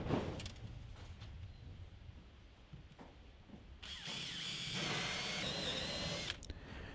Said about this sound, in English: all I had to do was drill several pointless holes